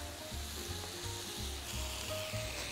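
Potatoes and steak sizzle in hot oil in a frying pan, a steady close crackle with soft scraping stirs and no voices.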